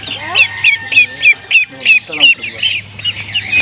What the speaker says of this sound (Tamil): வாத்துக்குட்டி